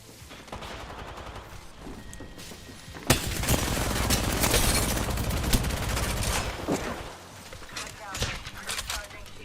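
Gunfire in a shooter video game: sporadic shots at first, then a sustained loud burst of rapid fire with impacts, tapering into scattered shots under a speaking voice.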